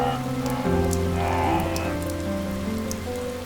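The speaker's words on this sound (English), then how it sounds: "As dawn breaks, the savanna comes alive under a deluge of rain." Heavy rain pours down on the African savanna at dawn, a dense continuous hiss of drops on the ground, mixed with sustained low tonal music throughout.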